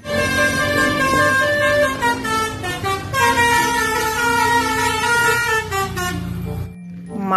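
A toy telolet bus horn plays a loud, continuous musical honk whose pitch steps between notes for several seconds before cutting off abruptly.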